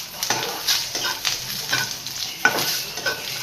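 Coconut for a masala fries in oil, giving a loud, close sizzle with repeated scraping stirs that come in uneven bursts about every half second.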